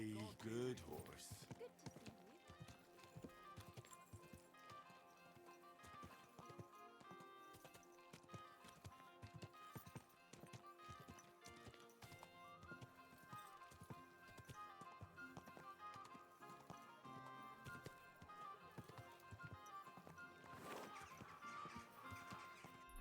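Hooves clip-clop steadily as a horse moves along in the Kingdom Come Deliverance 2 video game, with game music and ambience underneath and someone talking over it throughout.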